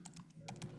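Typing on a Mac computer keyboard: a few quiet, quick key taps in an uneven burst, faint and close, with no talking.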